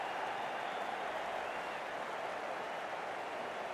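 Steady, dense crowd noise of cheering and applause fills a cricket-style match between the Los Angeles Strikers and Tampa Bay Flyers, a continuous roar at even loudness with no distinct voices.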